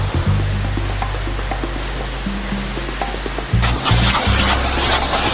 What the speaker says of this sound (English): here we go into the super scary car wash.